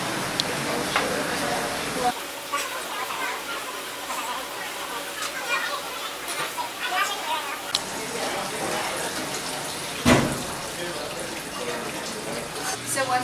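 Water runs steadily out of a drain pipe as a commercial dishwasher fills, a continuous close splashing gush lasting throughout, with the flow changing character partway and a brief louder splash near the end.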